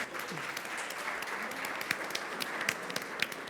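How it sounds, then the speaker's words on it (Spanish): Audience clapping at a panel discussion in Nuevo León, a steady wash of many hands with a few sharper individual claps standing out, fairly quiet and continuous throughout. "Nuevamente un fuerte aplauso a todos"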